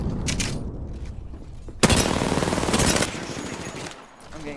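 Gunfire in the battle royale game Apex Legends: sustained automatic bursts and rapid shots, loud and dense, with a sharp heavy volley in the middle and firing tapering off toward the end.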